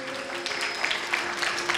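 An audience at a St. Patrick's Catholic Church program applauding to thank a priest: a steady, moderate patter of hand claps spread over the whole moment, with faint tonal background sound.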